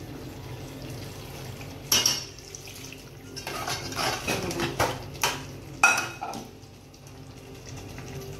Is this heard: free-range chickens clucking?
no